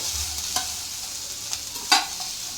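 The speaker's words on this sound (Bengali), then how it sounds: "এইভাবে 4-5 মিনিট আপনারা একটু হালকা ফ্রাই করে নেবেন" Food fries lightly in a pan with a constant soft sizzle, broken by a few spatula scrapes, the last one the loudest.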